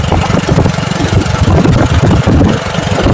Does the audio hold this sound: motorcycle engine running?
yes